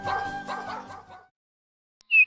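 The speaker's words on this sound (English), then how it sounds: "Pico met a dog named Popsy in Doggerado." A cartoon dog gives a short, bright yip-like bark near the end, after a stretch of voices and music and a brief silence.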